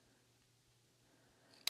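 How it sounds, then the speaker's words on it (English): A single crisp scissors snip cuts into the corner of a sewn fabric wristlet, one short close click after near silence. "I will come back with my scissors and get closer and then snip up into those corners"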